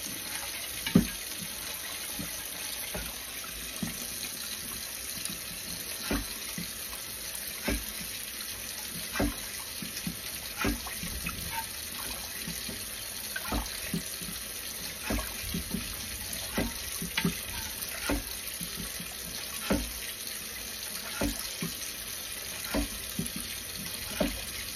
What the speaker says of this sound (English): I like to wash my rice. And if you know me, I wash my rice till the water is clear.